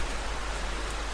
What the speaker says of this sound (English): Ooh, a thunderstorm, how exciting.